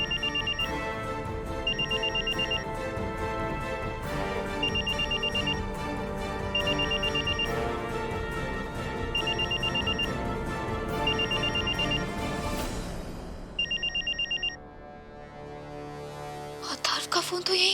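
A mobile phone rings indoors with a repeating electronic chime pattern in regular bursts over a background music bed, cutting off near the end before a dramatic swell.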